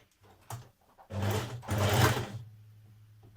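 Sewing machine stitching a sweatshirt on a narrow zigzag or stretch stitch with a shortened stitch length: a brief tap, then two steady motor runs separated by a short pause, quiet and alone.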